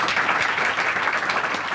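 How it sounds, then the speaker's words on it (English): An audience gives a round of applause for Susanna Moorehead at an ODI conversation event, a short, steady burst of many hands clapping together in a room. "if we could all give Susanna a round of applause"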